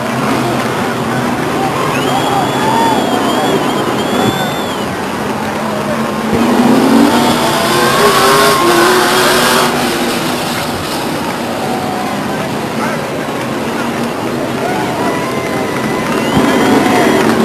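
Late model stock cars racing at Stockton 99 Speedway, engines roaring and revving as the field passes, with a commentator's voice running over the loud track noise.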